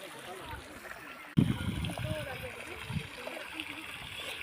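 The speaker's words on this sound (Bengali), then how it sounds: "উপর থেকে জল পড়ছে।" Water falls from above at the Cherrapunji waterfall, a steady rushing wash with a sudden louder splash partway through. Voices talk softly over the flow.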